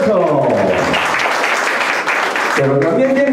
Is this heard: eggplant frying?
no